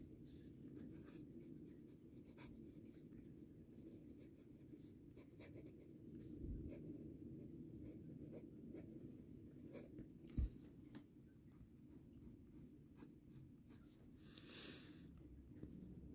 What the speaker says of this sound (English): So I'm just going to do a really quick writing sample.